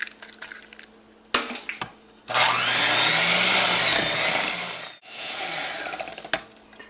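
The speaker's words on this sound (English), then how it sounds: "we start blending in the eggs," A blender mixes eggs one at a time into cheesecake batter, switching on loudly with a dense whirring roar that cuts out briefly before resuming, framed by quieter clicks and handling noises.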